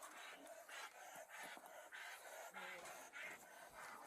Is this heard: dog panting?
yes